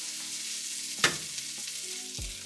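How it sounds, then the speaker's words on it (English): Seasoned beef for Spanish rice sizzles in a pan while a utensil gives a quick stir, with one sharp scrape and a couple of softer knocks over a steady frying hiss. "Give it one more little quick stir."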